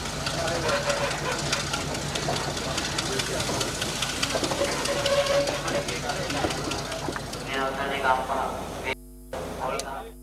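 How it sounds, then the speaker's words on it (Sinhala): The Yal Devi passenger train runs with steady, loud engine rumble and rattling throughout, ending in a few choppy bursts. "අනතුරුව යාල්දේවි දුම්රිය අද උදෑසන 8:30ට කුරුණෑගල දුම්රිය ස්ථානයට පැමිණියා."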